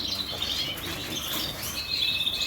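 Canaries at a breeder's aviary chirp in quick high trills and tweets, several birds close by, with soft fluttering and rustling underneath and no talking.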